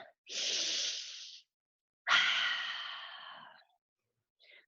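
Slow, deep breathing during a yoga class, heard close and alone: a long airy inhale, a pause, then a longer exhale, followed by the start of another breath.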